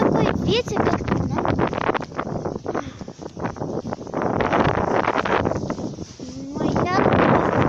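Strong outdoor wind gusts buffet the microphone on a cold Halloween evening near a fir tree, with rough, uneven rumbling that rises and falls throughout while a person talks over it.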